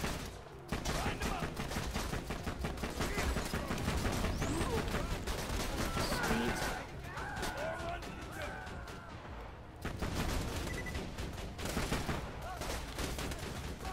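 A turret fires rapidly in Borderlands 2, a dense, continuous stream of shots that pauses briefly midway and then resumes, with voices talking under the barrage.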